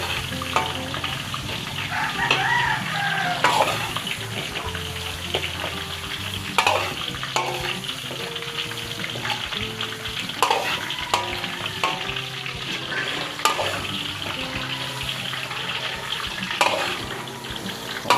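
Garlic toasts in a pan with Cajun seasoning, giving a steady close sizzle, while a utensil stirs and clinks in repeated strokes and occasional watery splashes sound in between.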